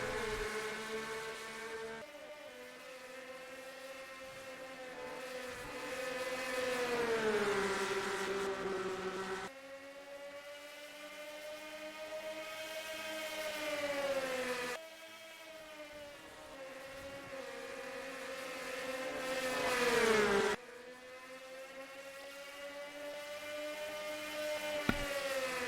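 Race cars in a NASCAR video game at Milwaukee drone around the track, engine pitch climbing and falling in repeated waves as they shift and lap. The sound is steady, with no talk over it.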